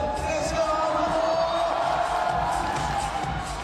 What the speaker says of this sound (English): Alberto with a cheer and a clap as he finds that right foot